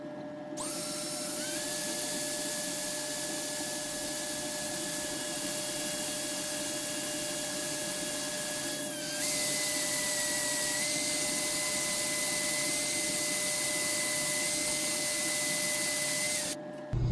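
Steady, loud high-pitched whine of a small drill boring a hole for a homemade Chinese mini greaseable pin, running continuously with a slight pitch drop midway as pressure changes, then stopping abruptly near the end.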